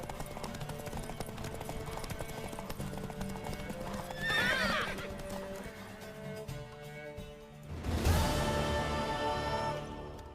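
A horse neighs loudly partway through, over steady hoofbeats and a busy game soundtrack in The Witcher 3: Wild Hunt, with a louder burst of hooves and noise near the end.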